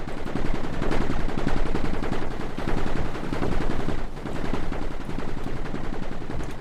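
Turrets in the tower-defense game Mindustry fire without pause in a dense, fast rattle of overlapping shots that holds at a loud, even level throughout.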